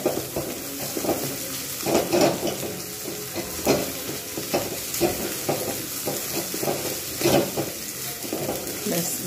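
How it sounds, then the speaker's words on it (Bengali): Eggs frying in hot oil in a pan, a close, continuous sizzle broken by repeated stirring and scraping strokes in an uneven rhythm. "ডিমটাকে আমি কিন্তু খুব ভালোভাবে ভেজে নেব।"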